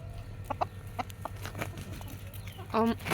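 A silkie rooster clucks nearby in a few soft, scattered notes, ending in a short louder burst of clucking over a low steady hum.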